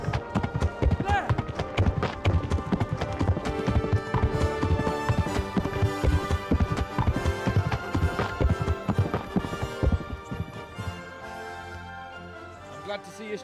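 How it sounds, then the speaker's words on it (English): Horses gallop in the video game Kingdom Come: Deliverance, with rapid, loud hoofbeats under music that thin out and fade toward the end. "Some loud horses."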